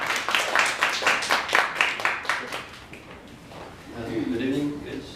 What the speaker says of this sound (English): Round of applause to Magzhan.